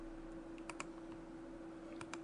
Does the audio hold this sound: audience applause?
no